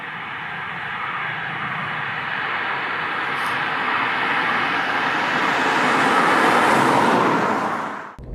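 Road and engine noise from a 2019 Ford Fiesta ST Line on the move, a steady broadband rumble that swells slightly before cutting off abruptly near the end, with no talking.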